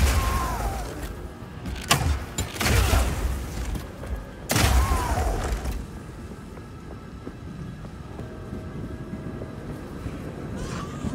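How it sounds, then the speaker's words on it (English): Grenades lying on the ground in Path of Exile 2 are set off in a few loud, booming bursts close by, separated by short pauses and followed by fading rumble and background game noise. "you can explode any grenades that happen to be on the ground"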